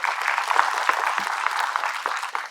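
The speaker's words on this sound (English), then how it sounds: "Please clap for her." Audience in an academy lecture hall clapping steadily and densely throughout, close and fairly loud, with no talk over it.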